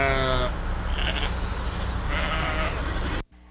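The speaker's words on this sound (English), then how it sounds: "George showed us how Blue herds the sheep from one place to another." Sheep being herded by a dog bleat loudly several times, wavering calls spaced across the clip over a steady outdoor rumble, then the sound cuts off abruptly.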